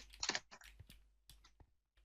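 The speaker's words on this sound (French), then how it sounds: "j'entends ton vieux clavier de merde là" An old computer keyboard clacks in scattered, uneven bursts of keystrokes, close but fairly quiet, with short pauses between presses over faint hum.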